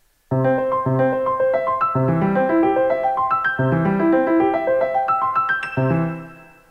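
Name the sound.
synthesizer arpeggiator across four octaves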